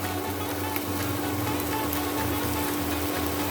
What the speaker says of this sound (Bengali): প্রায় 5 মিনিট পর আমি দেখাচ্ছি গাজর অনেকটাই ভাজা ভাজা হয়ে গেছে।